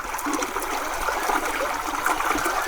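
Cut pool barb fish pieces are washed in river water outdoors, giving a steady trickling and splashing wash with no talking.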